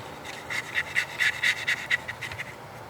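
Weathering powder is scrubbed onto a model locomotive panel with a brush. A run of quick, close scratchy strokes rises and falls over about two seconds.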